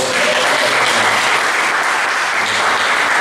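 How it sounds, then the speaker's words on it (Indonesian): Steady, dense clapping from an audience fills the whole stretch at close, even strength, voices hidden beneath it, at a church hall dedication ceremony. "mari kita tepuk tangan untuk"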